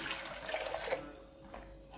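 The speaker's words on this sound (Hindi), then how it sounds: "और यहाँ पे पानी डाल दूंगी।" Water pours into a cooking pot holding spices such as dried coriander powder and turmeric, a close, steady splashing stream that fades out after about a second, leaving a quiet kitchen.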